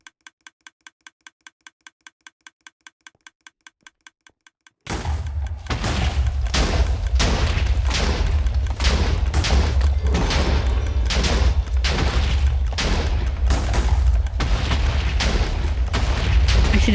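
Explosions in Minecraft come as a continuous barrage of loud, booming blasts with rattling debris. They follow a short stretch of rapid, quiet ticking.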